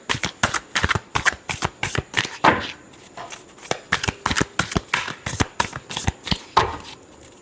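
A deck of tarot cards is shuffled by hand in a fast, crisp run of riffling slaps and flutters, close and loud, with only a brief murmur of talk.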